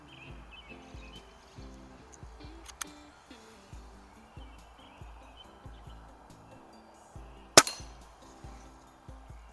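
A Crosman 1701P air pistol fires at targets 10 meters away, faint repeated pops spaced a second or so apart with one sharper, louder crack, against quiet outdoor background.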